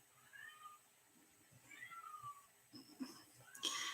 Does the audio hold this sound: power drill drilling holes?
no